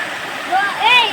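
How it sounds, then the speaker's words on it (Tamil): Water from Kayilai waterfall, also called Thazhampoo Aruvi, flows and splashes over rocks in a soft, continuous rush, heard close, with a voice speaking over it. "தண்ணி போயிட்டே இருக்குது."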